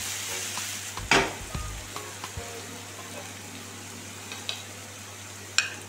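Seasonings for Jamaican ackee and saltfish fry in a pan with a close, steady sizzle, broken by a few clattering knocks early on and occasional light ticks.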